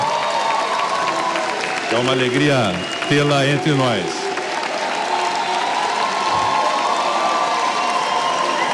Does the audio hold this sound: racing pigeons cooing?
no